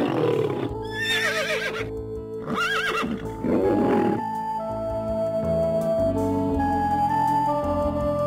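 Cartoon horse whinnies several times in quick succession, loud and near, with bright rising-falling calls over a music score that carries on alone once the neighing stops.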